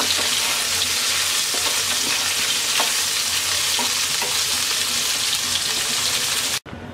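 Okra sizzles and spits steadily in hot oil in a pan, a dense, continuous hiss with occasional soft stirring clicks, before cutting off abruptly near the end.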